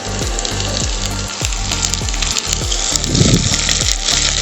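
Sliced flat beans frying with cauliflower in a pan, a loud close sizzle with rhythmic scraping and stirring strokes recurring throughout; no talking.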